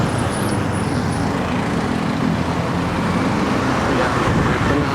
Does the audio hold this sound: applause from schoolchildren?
no